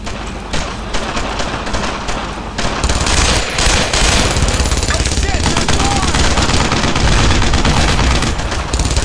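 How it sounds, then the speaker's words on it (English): A German machine gun nest fires in the World War II shooter Brothers in Arms, loud dense bursts of gunfire rattling continuously amid battle noise and distant booms, growing heavier midway. "There's an MG nest over there."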